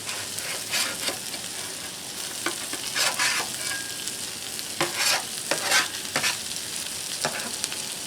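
Garlic frying alongside sausage and peppers on a Blackstone griddle, a constant close sizzle broken by scattered scraping stirs of a spatula across the hot metal surface.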